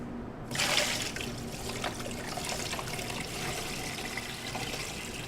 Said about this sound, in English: All we have to do now is submerge the pork loin in the brine.